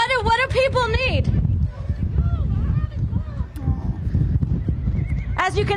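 Horses on a farm during a fire rescue neigh loudly and close by, with a long whinny at the start and another at the end, while hooves clip-clop and people talk and shout throughout.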